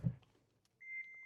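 A reverse-gear warning beep in a Maruti Suzuki Baleno base model with a 5-speed manual gearbox: a steady electronic tone comes in after a short thump and holds clearly in the cabin.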